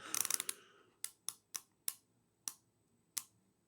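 Stiff rotating bezel on a Watchdives WD-1965 dive watch being turned, a rapid cluster of grinding clicks followed by six separate sharp, close clicks spaced irregularly in a quiet room.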